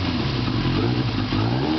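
A rebuilt Yamaha Fazer 700 motorcycle engine, fitted with a free-flowing Kerker exhaust and a K&N air filter in the airbox, revs loudly and roughly up close, running slightly lean with a rumbling, uneven note.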